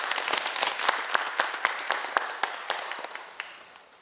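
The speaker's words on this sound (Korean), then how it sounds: "박수로 맞아주시기 바랍니다" A conference audience at a Gangneung cultural city project briefing claps to welcome a presenter: sharp, scattered hand claps ring out over a few seconds and gradually taper off.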